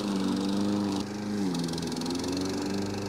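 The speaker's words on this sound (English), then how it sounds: "The walk-behind mower is used to mow hillsides." A STIHL RM 655 VS walk-behind gas lawn mower cuts on a hillside, its engine droning loud and steady at close range, with a brief dip in pitch under load and a crackle of grass and debris through the blades, no voices.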